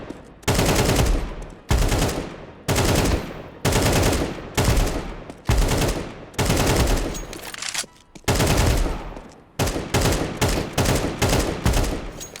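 Counter-Strike 2 gunfire during an aimbot demonstration: loud bursts of rapid automatic fire, roughly a dozen sprays separated by short pauses, the last ones quicker and choppier.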